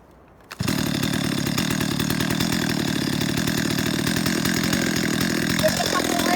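A chainsaw starts after a brief quiet moment, then runs steadily at a loud, close, buzzing idle for several seconds without letup.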